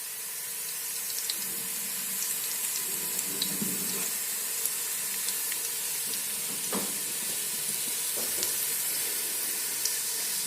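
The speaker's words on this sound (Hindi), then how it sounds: "तो एक प्याज को मैंने कुकिंग ऑयल में डाल" Chopped onion frying in cooking oil for a vegetable pulao, a steady broadband sizzle with faint crackles throughout, close and unbroken, with no talking.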